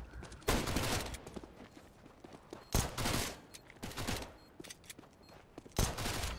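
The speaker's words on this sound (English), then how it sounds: "Now he's taking some shots at him." Gunfire in the shooter CS:GO comes as several loud bursts of rapid shots spread across the clip, separated by quieter gaps with faint game noise.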